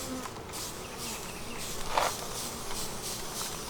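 Honeybees buzzing around an opened hive during an inspection: a dense, steady close drone with individual bees flying past the ear, no talking.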